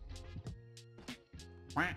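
Cartoonish duck quacks from the Roblox game Find the Ducks, several nasal quacks in quick irregular bursts, close and clear, with game sounds around them.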